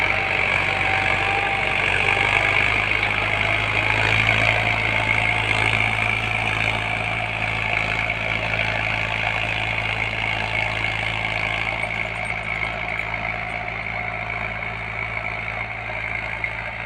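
A Ford farm tractor idles steadily while levelling a field, a constant close, loud engine drone with a low throb that barely changes throughout.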